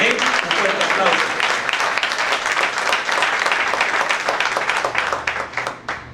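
A church congregation at a Sunday sermon breaks into loud, dense applause that holds steady throughout, many hands clapping together close by.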